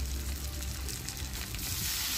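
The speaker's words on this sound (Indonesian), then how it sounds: "kemudian saya masukkan ikan patinya tadi dan juga tahunya kalau sudah masuk semuanya tambahkan 180 ml air ya" Pangasius fish and tofu in a pan with about 180 ml of added water, giving a steady, dense sizzling and bubbling hiss that continues without pause, close and moderately loud.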